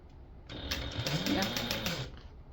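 A sewing machine stitching a tote bag runs in a brief, rapid mechanical burst of about a second and a half, with faint speech-like murmur mixed in.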